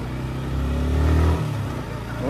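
A motorcycle engine runs and revs up close to pull away for a ride near a river, its low drone swelling briefly and then easing, with speech mixed in.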